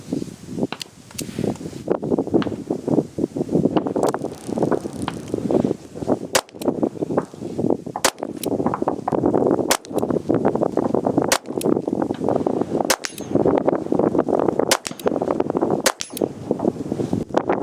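Smith & Wesson 317 AirLite .22LR revolver fired repeatedly outdoors, a series of sharp, close cracks spaced about one to two seconds apart over a constant background hiss.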